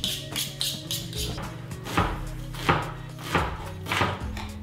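A shallot, almost a banana shallot, is peeled and cut for a gribiche sauce, giving a steady series of close, crisp knife taps and scrapes on a board, about one every half second, with no talk.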